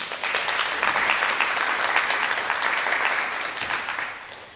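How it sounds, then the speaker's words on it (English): An audience at a panel event claps together in a dense, continuous burst of applause, loud and even throughout before tapering off at the end. "Let's give them a round of applause."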